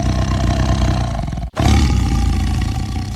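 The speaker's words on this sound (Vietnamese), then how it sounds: "Tiger." Tiger roaring, a loud close deep growling roar that cuts off briefly, then a second powerful roar follows immediately and rumbles on to the end.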